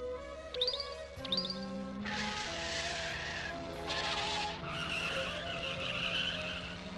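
A Porsche rolls and skids, sending out tire squeals and screeching swells over an engine drone, with a few higher chirping tones at the start.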